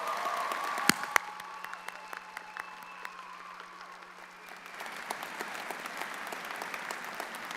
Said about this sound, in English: give your supporters a big round of applause